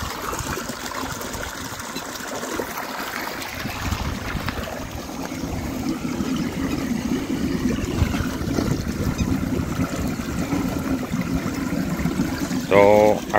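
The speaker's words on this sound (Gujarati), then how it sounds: "તો આ કૂવામાંથી પાણી આવો" Water from a well, pumped up by a motor, gushes steadily into a channel on farmland, a continuous broadband rush lasting throughout with a brief tonal sound near the end.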